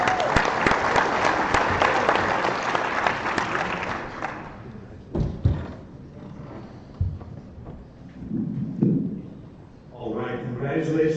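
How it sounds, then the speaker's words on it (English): Audience applause at a county Republican executive committee meeting, loud sustained clapping for about four seconds that then dies away into scattered thumps, murmurs and voices. "Our County Judge Chris Hill, come on, applause"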